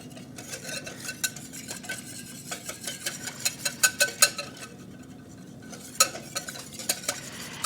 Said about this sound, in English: And then you just whisk this around until it is all combined.